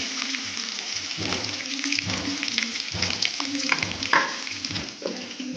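Onion and green chilli sizzling and crackling in hot oil with dried red chillies, seasoning spices and curry leaves for okra pulusu, loud and continuous with stirring scrapes throughout.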